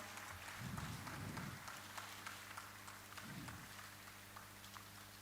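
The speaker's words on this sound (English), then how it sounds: "Let's all have a big round of applause." An audience applauds at the HAMFEST India inauguration, a ham radio event, with a soft, diffuse patter of clapping that swells twice and then fades under a steady hall hum.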